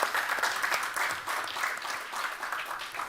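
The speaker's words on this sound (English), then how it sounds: "Let's give a warm applause to everybody." An audience at a European forum panel discussion applauds the panel participants, a steady mid-level patter of many hands clapping that continues evenly without a break.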